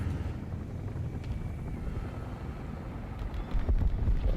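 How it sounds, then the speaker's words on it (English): A helicopter in the War Thunder tank game gives off a steady low rotor rumble with wind-like noise. The rumble grows slightly louder near the end, and no one speaks. "That's our helicopter."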